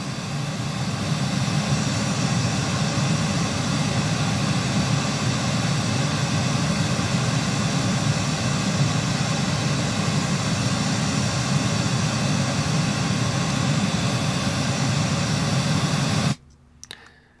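A steady broadband test signal from a measurement software signal generator, like a constant rushing noise, plays loudly and evenly for about sixteen seconds before cutting off abruptly, with no talk.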